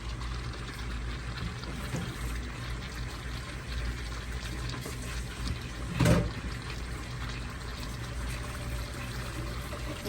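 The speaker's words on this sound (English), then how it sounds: "I'm pouring some water in the pot with the curry chicken and all the ingredients." Water poured into a pot of curry chicken with tomato, carrots and other ingredients, a brief splashing burst standing out over a steady low background hum of a home kitchen.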